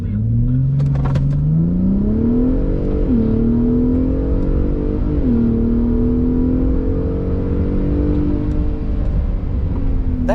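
A 2021 Ford F-150 Raptor pickup in sport mode accelerating hard from a standstill, its engine droning loudly and climbing steadily in pitch, with two brief dips as it shifts gears, continuous and close.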